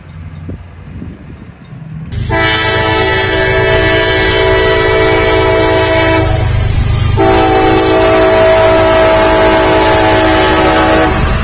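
Outbound freight train M209 at Folkston, Georgia, passing close and loud with rumbling wheels and a long multi-tone horn blast that breaks briefly and sounds again.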